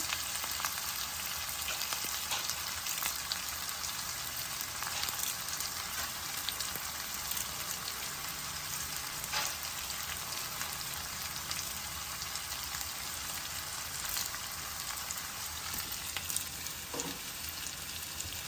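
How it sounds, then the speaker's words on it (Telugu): Onions, green chillies and curry leaves frying in oil, a dense, crackling sizzle that holds steady for the whole stretch with scattered pops, and no one speaking. "ఉల్లిపాయలు వేగాక చూపిస్తాం ఉల్లిపాయలు చూడండి కొద్దిగా వేగాయి"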